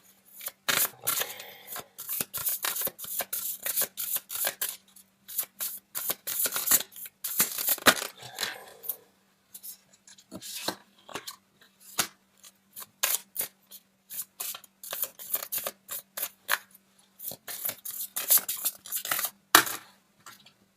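Tarot cards are drawn, shuffled and handled in quick bursts of crisp snapping, flicking and slapping, close by, with brief pauses between flurries.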